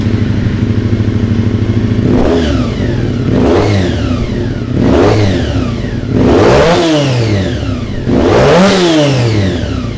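A 2003 Harley-Davidson V-Rod 100th Anniversary motorcycle engine idles loudly, then is revved in a series of four or five sharp throttle blips that rise and fall, each swelling and dropping back toward idle.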